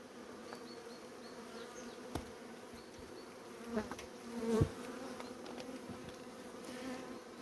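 Bees buzz close by in a polyurethane foam hive as the frames are shaken, giving a continuous drone with a few louder bumps and thuds near the middle.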